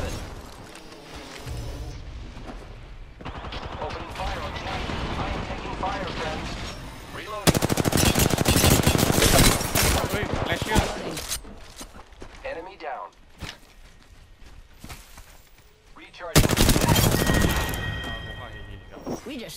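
Rapid automatic gunfire bursts in the battle royale game Apex Legends, loud volleys with footsteps and in-game chatter, with voices talking over the action.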